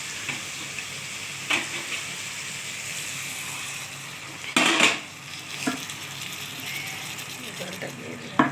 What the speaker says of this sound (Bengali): এবার প্লেটটার মধ্যে তেল আছে অনেকটা, তাই জলটা দিয়ে ধুয়ে দিয়ে দিচ্ছি।